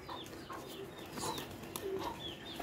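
Pigeons at a rural home with new nest boxes, cooing and soft clucking calls repeating over quiet background noise, fairly close with no talk.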